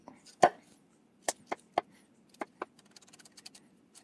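Garlic cloves minced with a knife on a cutting board for a vegan seitan piccata: a heavy first chop, then a run of sharp knife taps on the board that turn into quicker, lighter chopping toward the end, close up with no talk.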